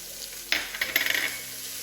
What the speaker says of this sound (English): So I'm going to mix the bacon in there.